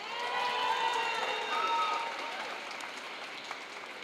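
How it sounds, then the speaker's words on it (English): Audience at a mayor's neighborhood coffee hour in Chinatown applauds for a Chinatown liaison, a steady, moderately quiet patter of clapping with a few voices mixed in. "Give a round of applause for Chu."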